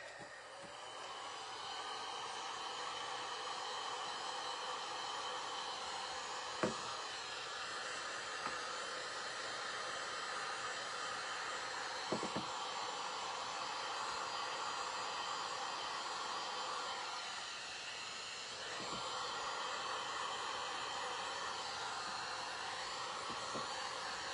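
A hair dryer blows steadily for over twenty seconds, drying a small item nearby; a loud continuous whooshing roar with a few faint clicks and knocks, and no talk.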